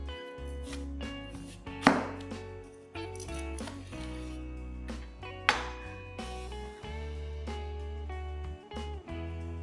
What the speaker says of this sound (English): Cut the ends of the bitter gourd. Then, split it in half lengthwise.